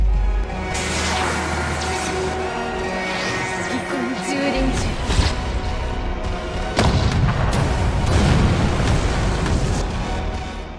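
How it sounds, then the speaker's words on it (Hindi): A huge explosion in a battle scene from the anime Bleach: Thousand-Year Blood War, a loud booming blast with rumbling low end and a second surge midway, dense and continuous with no talk over it. "जिसे वहाँ एक अल्टीमेट ब्लास्ट होता है"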